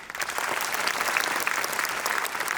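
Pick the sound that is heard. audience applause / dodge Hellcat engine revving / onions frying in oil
audience applause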